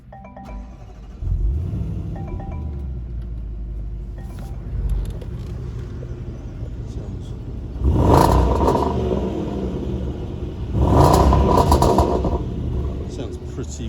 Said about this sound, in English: So, let's start this car up and see what it sounds like.